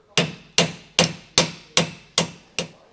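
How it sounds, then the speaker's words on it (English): A hammer taps a bolt on tandem-axle trailer suspension during an equalizer installation, seven sharp metallic strikes at a steady, unhurried rhythm, each ringing briefly before the next, with no talking. "just with a hammer, just kind of give it a little impact"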